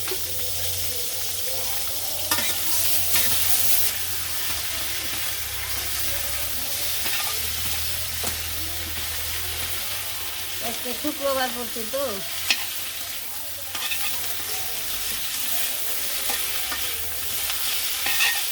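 Oil sizzling in a pan with steady stirring, just before chopped cabbage goes into a koi fish and cauliflower dish. The close, continuous frying hiss carries some faint water sounds and brief talk partway through.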